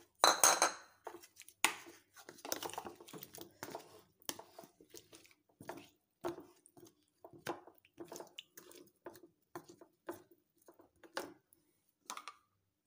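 Onions being dropped into a pan of melted sugar and vinegar make a series of soft clinks, wet squishes and light taps, quiet and close, spread across the whole stretch with short pauses between them.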